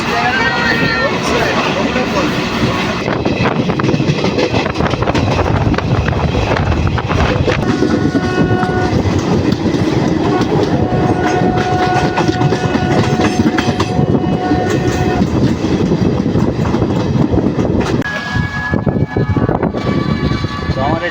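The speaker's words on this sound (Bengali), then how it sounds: "ট্রেনে করে আবার বাড়ি ফিরছি" Train running on rails, heard from inside a carriage on a homeward journey: a loud, continuous rumble with rhythmic clatter and some high squealing tones, steady throughout, with voices faintly present.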